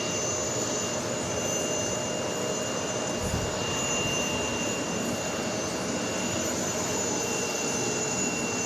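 Jet engines of a Lufthansa Boeing 747-8 at JFK produce a steady, distant broadband roar with a faint high whine, unbroken for the whole stretch.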